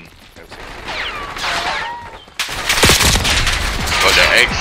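XM4 rifle fire in Black Ops 6 multiplayer: after a quieter stretch of whistling game effects, loud, rapid close-range shots crack out in dense bursts that continue to the end.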